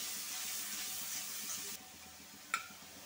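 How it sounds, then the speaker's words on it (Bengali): Ginger and garlic paste sautéing in a pan with a soft, even hiss that drops suddenly after about two seconds, followed by one brief clink. "দিয়ে মশলাটা একটু কষাচ্ছি"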